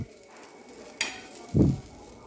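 Turmeric powder frying in a pan, a soft sizzle with a brief scrape near the middle and a louder stirring burst shortly after, no voices.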